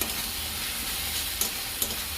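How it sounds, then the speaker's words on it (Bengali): Spice masala being stir-fried in a pan for an egg and soybean curry, a steady close sizzle and frying hiss with faint scraping stirs, no talking. "বন্ধুরা দেখুন আমার মশলাটা কত সুন্দর কষানো হয়ে যাচ্ছে"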